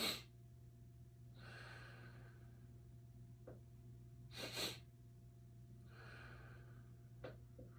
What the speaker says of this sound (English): Breathing in quick twice and then exhaling.